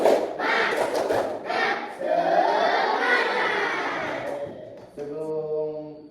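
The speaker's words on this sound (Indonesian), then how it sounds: "Tepuk semangat." A classroom of schoolchildren performs a rhythmic spirit clap, sharp hand claps and thumps mixed with loud group chanting, followed by a single voice speaking at the end.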